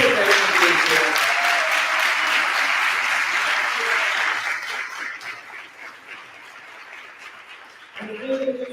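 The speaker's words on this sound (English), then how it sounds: "So big round of applause for both of them for being here." An audience at a school district candidate forum applauds the two candidates, a full burst of clapping that fades after a few seconds to scattered claps before a voice returns at the end.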